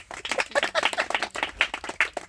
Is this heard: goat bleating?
no